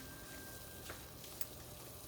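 Deep-fried zucchini sautéing in extra virgin olive oil over medium heat gives a steady, fairly quiet sizzle, with a couple of brief clicks partway through.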